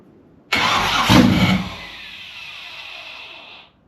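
Car engine with a 3-inch straight pipe exhaust cranks loudly and close for about a second, then rumbles briefly before fading to a thin, fading hiss and going quiet.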